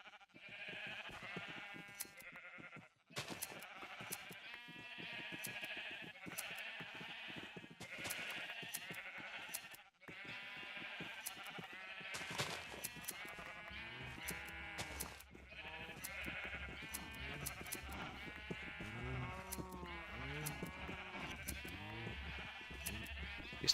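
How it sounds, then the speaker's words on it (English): Minecraft sheep bleating over and over in a video game, dense overlapping cries from several animals in irregular bursts, close and fairly loud, with no talking. "At least I have enough sheep."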